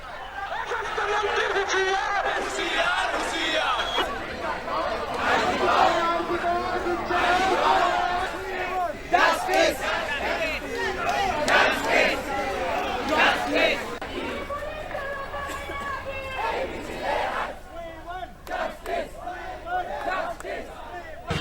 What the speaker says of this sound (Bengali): স্বাস্থ্য ভবনের সামনে স্লোগান দিতে থাকেন আন্দোলনকারীরা